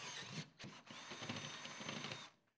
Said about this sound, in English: Using a 9/16 inch drill bit, drill holes at the pilot holes through the metal studs.